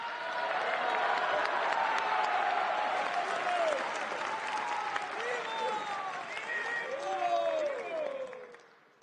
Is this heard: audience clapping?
yes